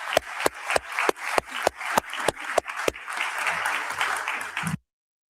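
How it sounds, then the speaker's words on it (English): Audience applause at an international conference on AI, security and ethics: a few crisp claps that swell into steady, moderately loud clapping from a crowd, ending abruptly after about five seconds. "If the audience will please join me in a round of applause to the Director General"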